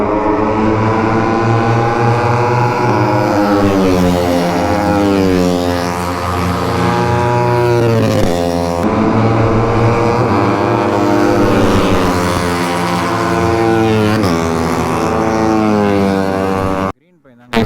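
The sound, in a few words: superbikes racing past on MMRT race track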